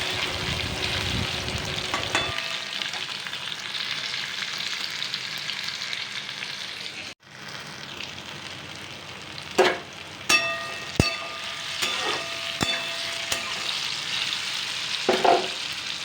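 Onion, garlic and ginger paste hits a pan after fried pointed gourd and is stirred for a Bengali egg curry with potato, a steady close sizzle that drops briefly, then returns with sharp spoon scrapes and clinks.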